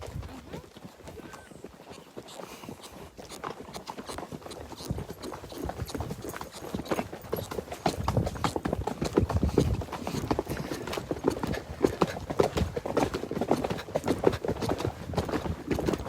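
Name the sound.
horse hooves clip-clopping while being ridden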